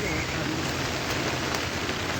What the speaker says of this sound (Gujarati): આટલો ભયંકર વરસાદ है, एकदम जोरदार